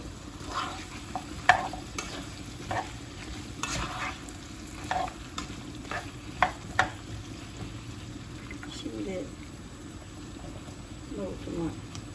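Onions and tomato paste sautéing with celery in a pan for an olive-oil celery dish with leeks and chickpeas, giving a soft, steady sizzle broken by spoon scrapes and stirring clatter, with brief talk over it.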